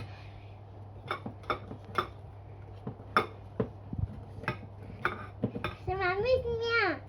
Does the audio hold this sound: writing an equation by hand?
no